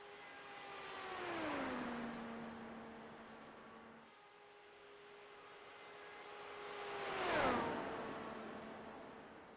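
A race car on a qualifying lap at the Indianapolis speedway screams past twice, its pitch dropping each time with a clear Doppler sweep. Between the passes the engine fades into the distance.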